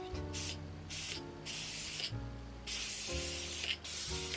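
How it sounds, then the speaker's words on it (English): An aerosol spray hisses onto a small piece of cardboard in quick bursts, close and fairly quiet, over a low background hum. "So if you spray it on a little piece of cardboard and then put it on the shirt, there's no residue"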